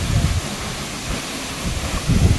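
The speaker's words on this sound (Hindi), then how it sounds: "ये रहा गाइस टाइगर फॉल हमारा।" Tiger Falls waterfall in Chakrata roars as a loud, steady broadband rush of falling water with low rumbling gusts, no voices over it.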